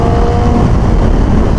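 Suzuki GSXR motorcycle ridden through blind mountain corners, its engine a steady, loud broadband drone with a faint tonal whine and heavy wind rumble, continuous throughout.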